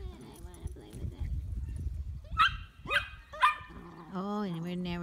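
Beagle puppies playing with a stick give a few short, high yelping barks close by, amid scuffling noise, with a person talking over part of it.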